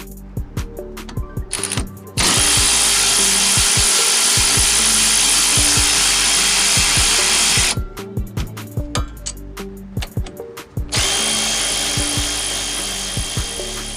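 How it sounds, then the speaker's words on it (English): A power tool with a 14mm socket works the rear caliper bolts on a 2006-2013 Chevy Impala, alternating loud rapid hammering bursts with long steady high whirring runs, close and dominant, with no talk. "you'll need to remove the two caliper bolts with the 14mm socket"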